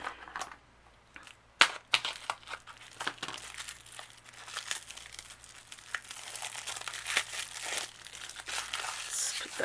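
Packaging from an Altenew Crafty Mystery Bag X crinkles and crackles as it is opened, irregular bursts of plastic rustling up close, with a quiet voice talking at moments between the crinkles.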